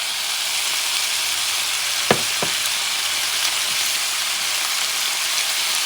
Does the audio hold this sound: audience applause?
no